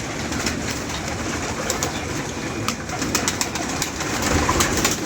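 Pigeons coo softly amid steady outdoor background noise, with a few brief sharper calls and flutters; no one speaks.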